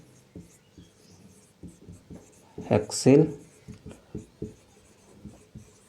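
Marker or chalk strokes squeak and scratch across a classroom board as a chemical formula is written, a short burst of writing midway, while a teacher talks throughout.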